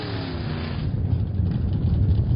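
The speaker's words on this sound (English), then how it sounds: "This is Brent, the real McCoy, in his 1959 Pontiac." A 1959 Pontiac drag racing car at a drag strip accelerates, its engine a loud, continuous roar with wind noise, building slightly as it passes nearby.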